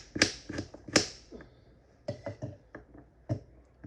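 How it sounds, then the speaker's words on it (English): A knife chops a washed apple into small pieces on a cutting board, giving a run of sharp, uneven taps and clicks close by, with short pauses between bursts of cuts. "we're just going to simply cut them up small"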